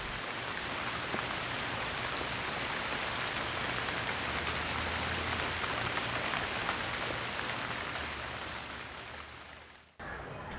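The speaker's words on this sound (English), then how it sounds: "Thunder and Rain, an occasion to quote Rabindranath Tagore." Steady, dense rain falling through the whole stretch, loud and close with a constant wash of drops on surfaces, and a thin high hum running beneath it until the rain cuts off sharply near the end.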